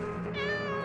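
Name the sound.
cat meowing in video game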